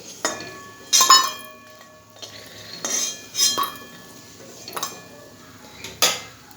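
Lentil dumplings (bori) being lifted from a pan of lentils and Malabar spinach, heard as several sharp metallic clinks of a utensil against the pan, spaced irregularly with quiet gaps between.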